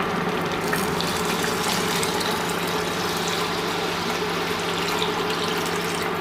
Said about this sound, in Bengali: আমি 2 বাটি চাল নিয়েছি, তো তার পরিমাণ মতো আমি 4 বাটি জল দেব।